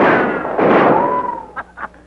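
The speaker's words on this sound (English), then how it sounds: "Tell him to keep shooting, Abner." Gunfire in a 1942 American film scene: a loud burst with a ringing tone trailing off, then two short, sharp shots in quick succession.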